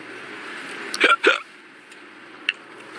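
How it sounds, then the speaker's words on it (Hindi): Hiccups from a woman sitting in a car, in a scene from the film Hasee Toh Phasee: two sharp, close-set hiccups in quick succession, then a fainter third a moment later, over quiet background noise. "hiccup is essentially an involuntary spasm of the diaphragm which causes sudden closure of the epiglottis"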